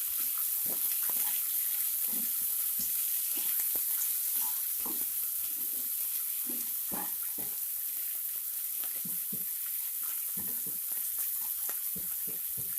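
Tomato curry ingredients frying in a pan in a home kitchen, a soft steady sizzle broken by scattered scrapes and stirring clatters, quiet and close with no voices.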